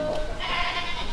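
Goats held in stock by a livestock distributor ahead of Eid al-Adha bleat with a wavering, nasal cry, fairly close and clear, over a busy background murmur.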